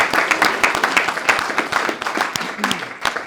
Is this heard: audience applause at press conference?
yes